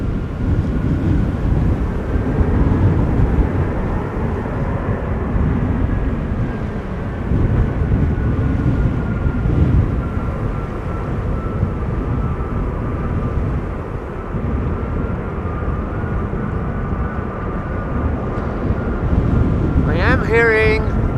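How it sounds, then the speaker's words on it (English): Engines of an Airbus A330 at Amsterdam Schiphol Airport after Storm Isha make a steady, loud jet rumble with a faint whine, heavily buffeted by gusty wind noise on the microphone, sustained throughout, with a brief sharper sound right at the end. "Hearing other engine sounds from an A330."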